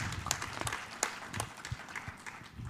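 Scattered audience applause at a youth energy conference as panelists are welcomed; modest, uneven clapping with a few distinct sharp claps, fairly faint and sparse rather than a full ovation.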